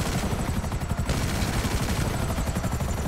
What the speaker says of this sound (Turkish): Oha vuramıyorum helikoptere.